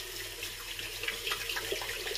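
A tap runs water steadily into a basin during a wet shave with a Razorock German slant razor, a close, continuous splashing hiss for a couple of seconds with no talk.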